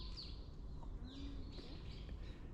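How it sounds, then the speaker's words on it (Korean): Faint bird chirps and calls in an outdoor setting, with soft background noise and a few scattered tweets. "아 새소리 이쁘다."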